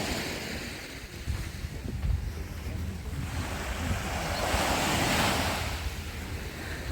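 Sea waves washing onto the beach at Langeron in Odesa, a steady broadband surf roar with a swelling surge near the end, under gusty wind buffeting the microphone and no talk.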